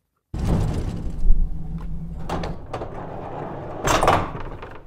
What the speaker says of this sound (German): Jetzt geht der Lift geht hoch und die Tür geht auf.